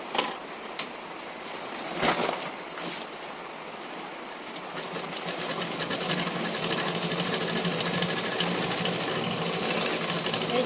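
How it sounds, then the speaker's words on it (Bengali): A sewing machine stitches a bag made from a cement sack, running as a continuous rattling drone close to the mic, with a few sharper clicks near the start. "আমি কিন্তু ডাবল সেলাই করে নিচ্ছি"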